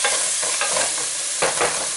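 Egg pulao being stirred in a pan with chopped tomato, a scraping, shuffling stir with soft sizzling underneath, two louder strokes late in the short stretch, no voices.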